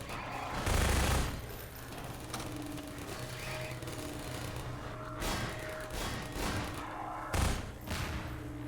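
Gunfire in Half-Life 2, with heavy bursts of shots near the start, around five seconds and again just after seven seconds, set against a low, busy game background.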